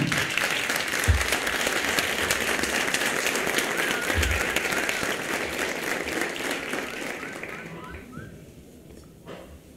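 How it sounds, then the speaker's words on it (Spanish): An audience at a university talk gives sustained applause, a dense wash of clapping close and loud with a few whistles, gradually thinning and fading toward the end. "Y esto merece un aplauso"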